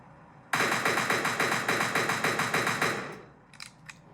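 An automatic weapon in the video game Entry Point fires one loud, rapid burst of about two and a half seconds with evenly spaced shots, then stops, leaving a fading tail and a couple of faint clicks.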